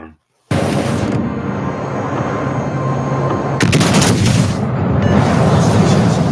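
Naval guns fire on an enemy battleship in a video game, a sudden loud, dense barrage of booming shots that runs almost without a break after a brief silent start, swelling into heavier blasts partway through.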